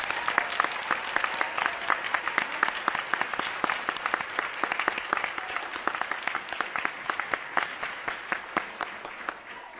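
Audience at a high school band winter concert applauding the band students, steady dense clapping with sharp individual claps standing out, sustained for several seconds without talk.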